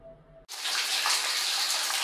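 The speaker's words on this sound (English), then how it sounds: "this shower head is dope because it actually comes straight from the ceiling" A ceiling-mounted shower head sprays water in a steady, loud, broadband hiss that starts abruptly after a brief quiet moment and continues evenly without voices.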